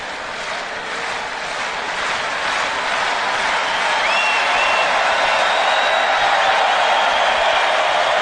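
Tennis crowd applauding at the US Open during a night match, a broad, steady wash of clapping that builds slightly and holds, without talk over it.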